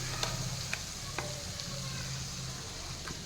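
Spices with salt and turmeric fry and are stirred in a pan, giving a continuous close sizzle broken by soft scraping taps of the spoon.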